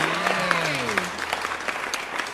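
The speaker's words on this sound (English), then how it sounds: "We have claps for our guests." Studio audience applause for guests on a talk show, a steady burst of close clapping that carries through the whole stretch, with a voice speaking faintly underneath at the start.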